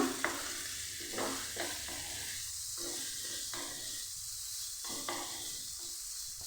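Chicken mince is mixed by hand with a little sugar and garam masala powder, giving soft, irregular squelching and scraping strokes in a bowl over a constant background hiss, close and quiet, with no speech.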